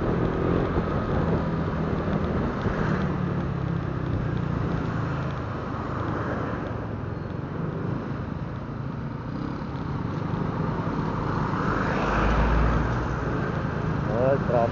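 Steady road traffic on a commute to work, with a continuous car and motorcycle engine rumble throughout, heard from close by, with a voice speaking over it now and then.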